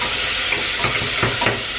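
Onions cook in a pot with a loud, dense sizzle and hiss, broken by a few stirring scrapes close by.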